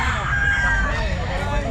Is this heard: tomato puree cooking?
no